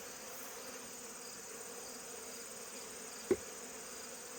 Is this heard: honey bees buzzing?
yes